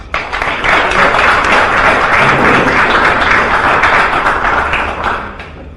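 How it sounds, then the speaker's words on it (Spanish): A standing audience at a philosophy seminar applauds to welcome a speaker: dense, sustained clapping that swells quickly, holds loud for several seconds, then thins out toward the end. "para que en pie lo recibamos con un aplauso."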